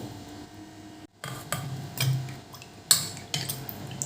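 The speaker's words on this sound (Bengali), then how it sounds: "এবার এতে দিয়ে দিলাম একটু জল এবার কর্নফ্লাওয়ারটা গুলে নেবো" A spoon stirring cornflour into water in a bowl, with light metallic clinks and taps against the dish in an uneven rhythm, close and fairly quiet.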